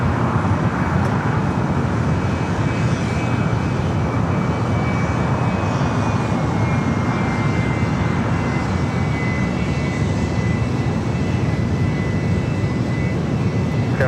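A jet airliner rolls down the runway for takeoff at Los Angeles International Airport, a loud continuous engine roar and rumble holding steady throughout, with no voices.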